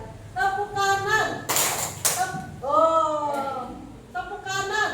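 A class of children claps hands together in a right-and-left game, with short sharp bursts of clapping between stretches of chanted voices.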